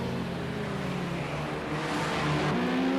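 Racing cars in Project Cars 2 at Bathurst's Conrod Straight, including a Porsche with fading tyres, roaring as a steady, loud engine drone with pitch rising toward the end, no voices present.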